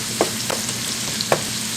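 Chicken pan-frying under a lid on a stovetop at medium heat gives a steady, soft sizzle, broken by a few brief clinks or pops near the start and again just after one second.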